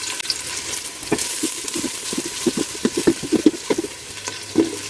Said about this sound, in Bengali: পেঁয়াজটাকে ভাজি করে বাদামি কালার করে নিতে হবে